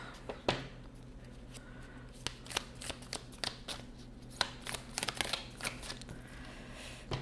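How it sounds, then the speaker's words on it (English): Card shuffling of a Moonology oracle deck, a series of soft riffling flicks and slaps at irregular intervals, close by and fairly quiet with no talking. "I'm going to pull from the Moonology deck first."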